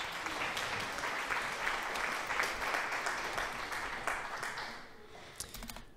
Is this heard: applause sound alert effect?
yes